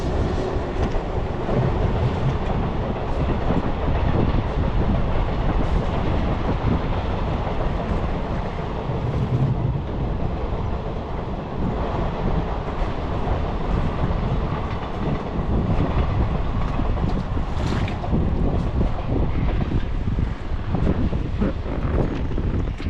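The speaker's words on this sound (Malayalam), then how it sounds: "ഈ പാലത്തിൽ കയറി ട്രെയിന് പോകുന്ന കാഴ്ച കാണാനും പറ്റി" A train rumbles past continuously at close range crossing a bridge at Kadalundi, a loud steady roar with rattling undertones and wind buffeting, no voices.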